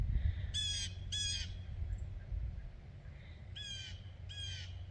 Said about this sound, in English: You can hear the blue jay in the background too.